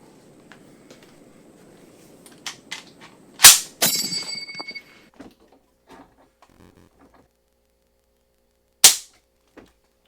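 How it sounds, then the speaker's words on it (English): An empty M1 rifle with a stock GI trigger is dry-fired, giving two sharp, loud metallic snaps several seconds apart, with faint mechanical rattles and handling noise between them in an otherwise quiet room. "This is my M1. It has a perfectly stock GI trigger, so let's see where this pulls."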